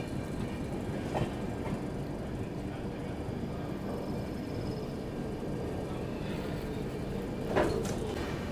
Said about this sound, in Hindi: और अराइवल भी आपको दिखा दिया दून एक्सप्रेस का।